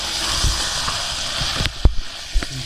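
Chicken korma with chilli sizzling in a pan, a steady close hiss of frying with a few soft stirring knocks and clinks.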